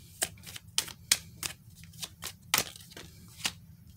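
Tarot cards being shuffled by hand in a quiet room, with about a dozen crisp riffling bursts coming at an uneven rhythm over a low steady hum.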